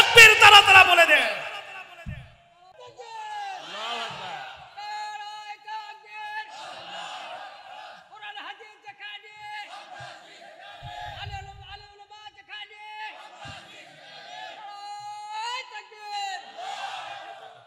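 A crowd of listeners at a Bengali sermon responds in unison with the Lillahi takbir chant, a burst of massed voices at the start, followed by a lone voice chanting melodically at length.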